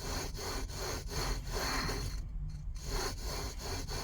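A billet flywheel on the crankshaft of a Brother 212 small engine is spun by hand, giving a grindy, bearing-like rasp in repeated rhythmic strokes, close and steady, with no talking.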